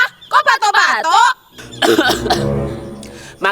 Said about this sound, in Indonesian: Kok batuk-batuk?